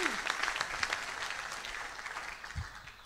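Steady applause from a crowd, a dense patter of many clapping hands that holds evenly throughout and slowly fades slightly toward the end.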